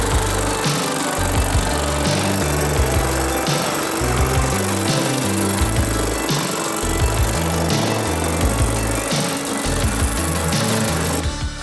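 A metal shrinking machine hammers away at a car body panel for a vintage supercar build, giving a loud, steady, rapid mechanical pounding with a rhythmically shifting low drone, close by and with no talk.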